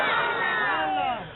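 Crowd at a religious sermon gathering in Okara chanting a slogan of praise, a brief, loud swell of many voices in unison that fades out at the end.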